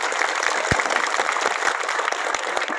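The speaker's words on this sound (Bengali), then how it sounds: "দেখছি তালির এখনো জোর আছে।" Children clap at a political gathering, a dense, continuous patter of many hands with a few sharper single claps standing out, fairly close and steady throughout.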